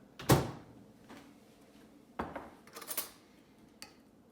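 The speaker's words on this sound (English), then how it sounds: "We're going to take it out and mix it up a little, see where we're at." Chocolate melted in a microwave being stirred in a bowl, heard as a few scattered metallic clinks and scrapes of a utensil against the bowl with quiet pauses between.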